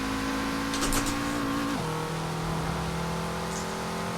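Peugeot 205 T16 rally car in Forza Horizon 4, its turbo engine holding a steady loud drone that drops in pitch as it shifts gear partway through, continuous and close.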